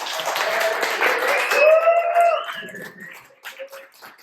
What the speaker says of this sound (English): I'd like everyone to give him a round of applause, please.